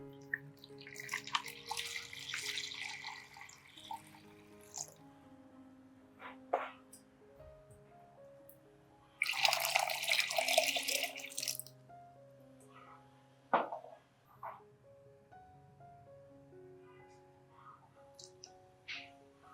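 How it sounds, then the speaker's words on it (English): Water poured to dilute a strained garlic mixture for orchids with 2 liters of water, a couple of bursts of splashing pour over a faint musical background. "Dilute it with 2 liters of water."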